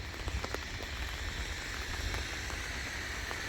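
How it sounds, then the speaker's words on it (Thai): Steady rain falls across a roadside, a dense, even hiss of drops with a few sharper patters on nearby surfaces, no voices heard. "ฝนนะคะ"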